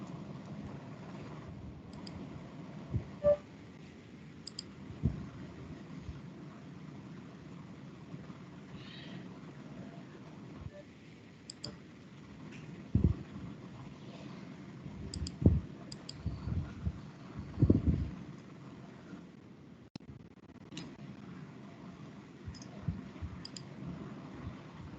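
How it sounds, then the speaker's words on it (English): Keyboard typing and mouse clicks while a small program is entered in a Code::Blocks window, a steady run of soft, close clicks and taps with occasional louder strikes and no talking. "I will open a code blocks window and there I will type the small program."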